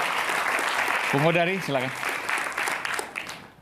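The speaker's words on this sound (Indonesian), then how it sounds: "Baik, kita berikan tepuk tangan." Audience applause at an Indonesian political talk show runs steadily in the background as a moderate wash of clapping, while someone speaks briefly over it partway through.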